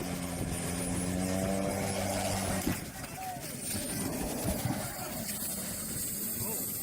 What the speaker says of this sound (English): This helicopter crashes in the water.